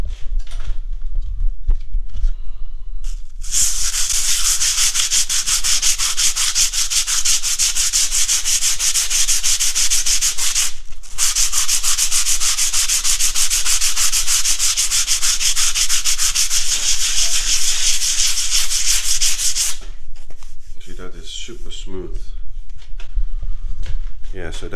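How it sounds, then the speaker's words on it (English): Old sandpaper rubbed by hand over smooth render on a tiny house wall, a steady close scratchy rasp running continuously for about sixteen seconds with a brief pause, with quieter handling sounds before and after. "Give it a little try now with a old bit of sandpaper."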